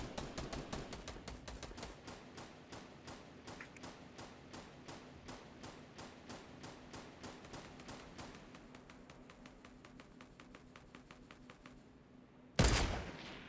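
Rapid gunfire in Fortnite pounds a wall: a long, steady stream of evenly spaced shots, fairly close and consistent, ending in one sudden louder blast.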